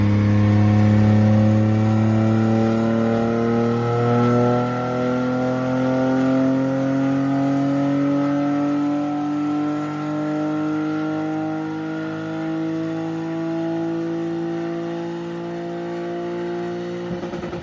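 A 1990s BMW 328i E36 engine runs on a dyno, pulling a long steady sweep with rising harmonics over about seventeen seconds, loud and close with no talk.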